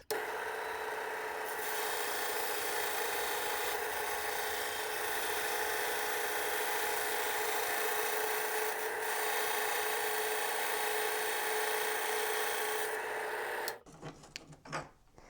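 A band saw cuts a big curve through a slab of rock, giving a steady, loud rasping grind that runs unbroken for most of the stretch before stopping abruptly into a few quieter knocks.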